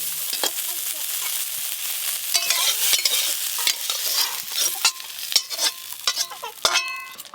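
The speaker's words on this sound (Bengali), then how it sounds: "সর্ষের তেল, তেল তো গরম হয়ে গেছে, সেদ্ধ করে রাখা আলু আর এঁচোড় একটু ভালো করে ভেজে নেব" Shrimp frying in hot mustard oil with turmeric and salt, a loud steady sizzle broken by sharp scraping clicks of a spatula stirring in the pan, with no talking.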